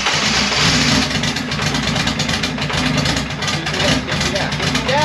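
A car engine idles loudly and steadily up close just after its first start on a Fueltech system with a new cam sensor replacing the old distributor, running rough and rich, with people talking over it.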